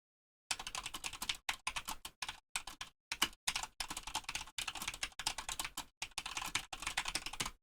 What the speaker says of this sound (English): one comparing the keystrokes with O-rings and without O-rings